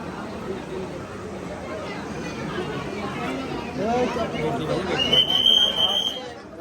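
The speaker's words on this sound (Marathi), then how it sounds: "गर्दी खूप आहे." A dense crowd murmurs and chatters at a busy riverside near holy rivers where people wait for boating, a steady overlapping babble of many voices with a few louder nearby voices rising toward the end.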